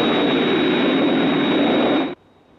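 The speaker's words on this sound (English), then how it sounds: "Hey, I hear an aircraft." Aircraft approaching, a loud, continuous, broad roar with a steady whine that holds for about two seconds and then cuts off abruptly, leaving near silence.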